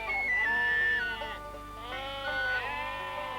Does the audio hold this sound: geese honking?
no